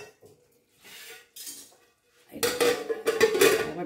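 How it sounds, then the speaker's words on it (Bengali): Metal lid set onto a cooking pot while a vegetarian ol chorchori simmers, a few soft clinks followed by a louder clattering, ringing settle of metal on metal. "এবার আমি এটাকে ঢাকা দিয়ে দেবো"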